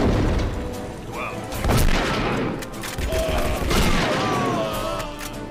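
Shotgun blasts in the video game Red Ocean, a few heavy booming shots with game ambience and a voice talking over them.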